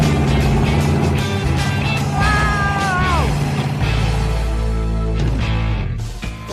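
A Suzuki Samurai fitted with a 440 big-block V8 roars loudly and steadily at close range, a deep heavy rumble throughout, with a brief high whine or squeal partway through and no speech.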